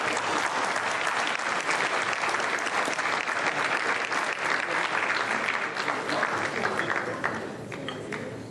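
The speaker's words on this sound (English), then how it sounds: "Can we have a big round of applause" An audience at a community unity dinner breaks into sustained applause, a dense clapping that carries on evenly and then tapers slightly at the end.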